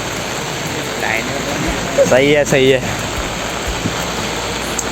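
Steady rain falls on an outdoor path during a morning walk, a constant hiss of drops with a few louder taps nearby, while someone speaks briefly over it.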